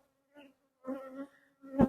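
Honeybees at a beehive during an October hive inspection make a few brief buzzing passes close by, faint at first and then louder, with short pauses between them and no talking.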